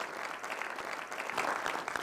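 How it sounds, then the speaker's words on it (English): Brief round of audience applause at a youth forum event, dense steady clapping throughout with no break, moderately loud and close. "It is- deserves a round of applause, guys."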